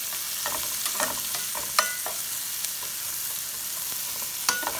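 Peppers, mushrooms and onions sizzle in a pan for cheesesteak, a steady close frying hiss broken by occasional scrapes and clicks of stirring.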